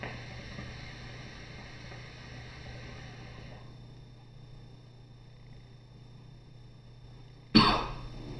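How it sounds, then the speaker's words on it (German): Someone coughs after choking on shisha smoke: one sharp, fairly close cough breaks in near the end, after a long stretch of faint background hum. "ich muss jetzt nicht wegen dem Tabak husten, ich habe mich ein bisschen verschluckt"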